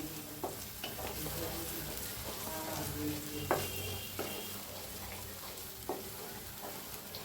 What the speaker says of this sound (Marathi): आता चांगलं भाजायला लागले.